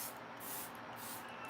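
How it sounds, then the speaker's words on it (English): A quiet, airy hiss of setting spray misted onto a face, a few short bursts with brief gaps between them, close and soft with no talking. "setting spray time."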